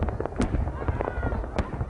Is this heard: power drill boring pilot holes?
no